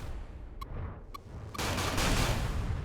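Spaceship weapons in the space combat game Everspace fire at a defensive turret: a few isolated sharp shots, then a sustained loud barrage of rapid fire with no voices.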